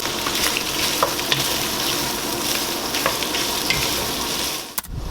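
Pecan-wood smoked sausage slices sizzling in a pot for Cajun chicken and sausage pasta, a dense steady frying hiss with occasional stirring taps, ending with a short clatter.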